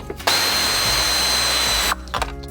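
A pneumatic wrench removes bolts on a Delica L300 during an alternator replacement, letting out one loud, steady, close whirring burst of about one and a half seconds between brief clanks, with no talking.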